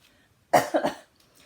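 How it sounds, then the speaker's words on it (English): A single short cough burst from a person with a lingering sinus illness, close and abrupt, breaking into two or three quick pulses before quiet returns. "I still have a little cough from my sinus"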